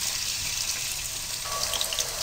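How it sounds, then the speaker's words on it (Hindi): Onions fry in a cup of hot oil with a steady, bright sizzle that stays constant and fairly loud. A few faint crackles pop out near the end. "1 कप तेल को गरम करें और उसमें प्याज को डालें"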